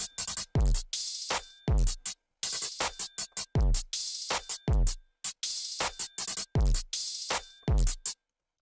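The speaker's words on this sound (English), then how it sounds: "So the drum pattern altogether sounds like this." A punchy 808 drum pattern with booming deep kicks and sharp hits repeats in a steady looping rhythm, loud and unaccompanied.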